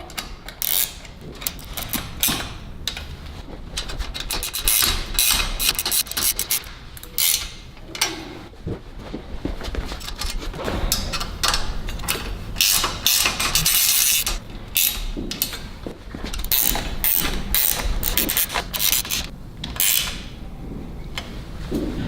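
Bolts are tightened on the rear rack of a Surface604 Boar electric fat-bike, giving rapid repeated ratchet clicks in bursts with short pauses between them, close and clear.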